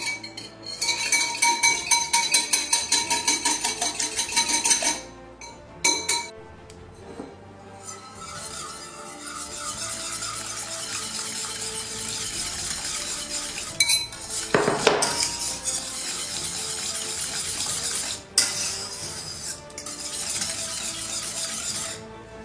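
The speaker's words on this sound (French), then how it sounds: "il va falloir battre très fort et très vite" A whisk beats egg mixture very hard and fast into rice pudding in a metal pan, giving a rapid, steady metallic clinking for about five seconds, followed by scattered clanks and scraping.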